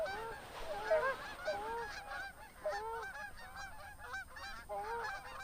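A flock of geese honks continuously during a goose hunt, many overlapping calls close to moderately far, busy and layered across the whole stretch with no talking over them.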